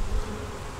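Honey bees buzzing steadily at an open hive, with foragers bringing in pollen; a close, continuous insect drone with no other sounds.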